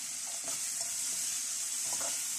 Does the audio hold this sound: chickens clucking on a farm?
no